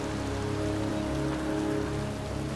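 Steady pouring rain drenches a cemetery in the video game Heavy Rain, a dense, continuous hiss of drops on surfaces beneath a low sustained musical drone, with no voices present.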